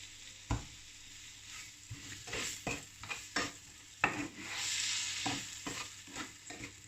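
Chopped apples with lemon juice cooking in a pan, a steady soft sizzle broken by repeated knocks and scrapes of a utensil stirring the fruit.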